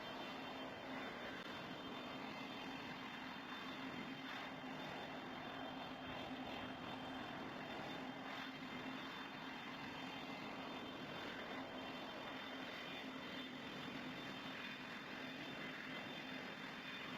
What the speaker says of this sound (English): We are starting to take off.